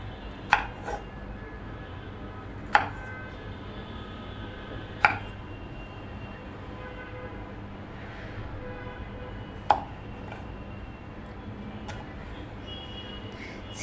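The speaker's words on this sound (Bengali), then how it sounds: "লম্বিভাবে কেটে নিচ্ছি। সবগুলো চিচিঙ্গাই আমি এভাবে কেটে নেব।" Knife cutting peeled snake gourd lengthwise: four or five sharp, isolated chops or taps against a board, spaced a couple of seconds apart over a steady low background hum, no voices.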